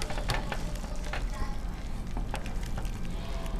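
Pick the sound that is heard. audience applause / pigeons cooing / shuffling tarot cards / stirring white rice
stirring white rice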